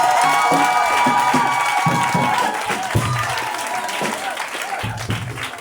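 A congregation at a Christian wedding ceremony applauds and cheers in a sustained wave of clapping and voices, with shouts and a speaking voice heard over the crowd.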